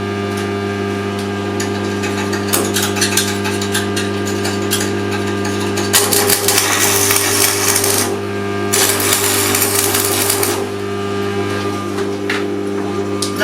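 Hand welding tacks on a small steel sculpture: a steady electrical hum underneath, with crackling bursts of arc noise at about six and nine seconds and softer ticks between them.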